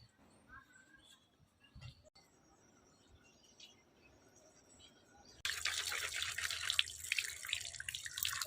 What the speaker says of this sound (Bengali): এই দেখেন এত কালো মাছ কত সুন্দর করে সাদা ফটফটা করে ধোয়া হয়ে গেছে।